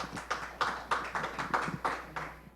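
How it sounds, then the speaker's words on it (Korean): A small audience claps to welcome a speaker at a panel on operating-room CCTV, with sparse, distinct hand claps in an uneven rhythm, fairly quiet and close. "큰 박수로 환영해 주시기 바랍니다."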